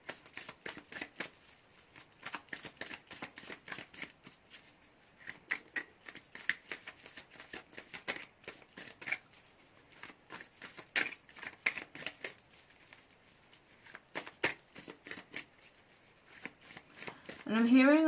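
Tarot cards shuffled by hand in rapid, crisp riffling bursts that come and go over a long stretch, close and fairly quiet, with a voice speaking between the shuffles.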